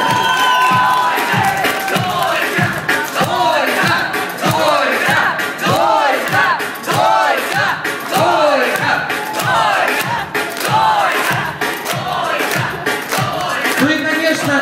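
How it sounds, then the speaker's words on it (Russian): A festive crowd at an engagement celebration on stage cheers and shouts loudly for a young couple, with a dense, continuous roar of voices and whoops filling the whole stretch. "Давайте еще раз этим молодым ребятам поаплодируем."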